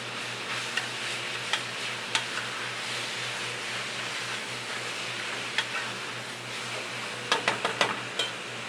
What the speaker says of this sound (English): We're going to let them caramelize and we'll stir them again.